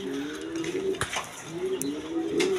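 A red Rajgolla pigeon coos in soft, repeated low phrases at close range, with a couple of sharp clicks and rustles between the calls.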